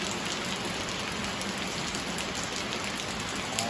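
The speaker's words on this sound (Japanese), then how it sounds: "大雨、大雨よ。" Heavy rain pours down steadily, a dense hiss of drops drumming on surfaces close by, loud and unbroken with no voices over it.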